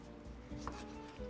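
A knife chops through tomato on a board, a few soft close cuts at a quiet level with a faint tonal hum underneath.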